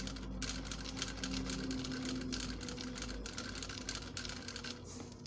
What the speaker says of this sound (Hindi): अब सिलाई चलाएंगे।